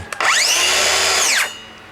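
A Stanley FatMax SBC550 cordless brushless circular saw with a 7 1/4-inch blade spins up sharply, runs at a steady high-pitched whine at full speed, then quickly winds down as its electric brake stops the blade.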